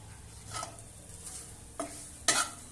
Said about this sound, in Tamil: நல்லா ஃப்ரை பண்ணி எடுத்துக்கணும் இந்த தேங்காவை